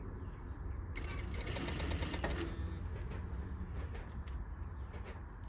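A sewing machine stitches fabric along an inner concave curve, its fast rattling needle running in short bursts with a brief pause between, close and fairly quiet.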